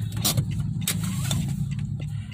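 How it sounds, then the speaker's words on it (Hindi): A Tata Tigor XZ+ car that has just died is cranked in an attempt to start it, giving a steady low mechanical rumble with a few brief sharper clicks and thumps, heard close up with no talking. "मैं गाड़ी स्टार्ट करने की कोशिश करूँ एक बार।"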